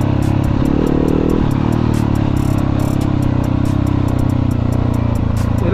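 A motorcycle engine drones steadily and loud throughout, its pitch dipping briefly as the rider eases off and clutches to shift gears, then holding a constant rumbling hum.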